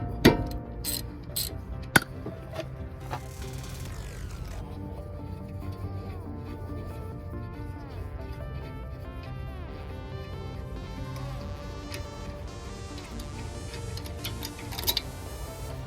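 A ratchet clicks steadily while the two caliper bolts come off the passenger-side front brake of an Acura RDX during a pad change. Sharp knocks come first, then a long run of quick, close mechanical ticks with no talk.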